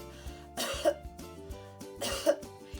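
Two short, forceful coughs about a second and a half apart, close by, with a faint tonal hum running underneath.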